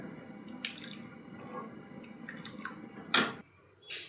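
Quiet, irregular bubbling and popping of sambar made without dal coming to a boil in a pot for idli, soft and close, with one brief louder splash near the end.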